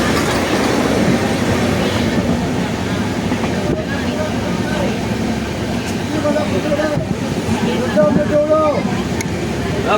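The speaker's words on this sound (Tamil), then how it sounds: "போயிட்டு இருக்கிறது தான் நாகர்கோவில் வந்தே பாரத் எக்ஸ்பிரஸ்." From a moving passenger train near the Nagercoil Vande Bharat Express, a loud steady rumble of wheels and carriages runs throughout with occasional squealing wheel tones and faint rattles.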